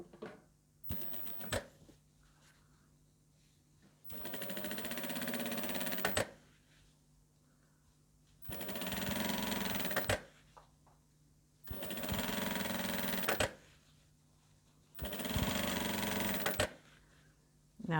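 Sewing machine stitching the back seam of a communion dress, running in four sustained bursts of about two seconds each, close and steady, separated by quiet pauses with small handling clicks.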